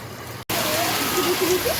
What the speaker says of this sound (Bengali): এই দেখো বন্ধুরা আমাদের শিলা বৃষ্টি হচ্ছে